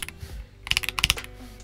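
A short burst of clicky mechanical keyboard typing on a Leobog Graywood with MintCaps YQ84 keycaps and red switches, a quick run of crisp keystrokes close to the microphone.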